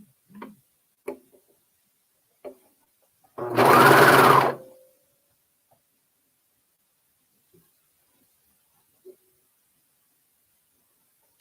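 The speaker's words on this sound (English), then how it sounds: "we're going to sew them together using our serger, going all the way around" A serger runs in one loud burst of about a second as it sews a fabric seam, surrounded by quiet with a few isolated clicks and taps.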